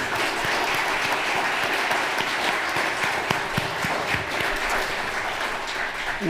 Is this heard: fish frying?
no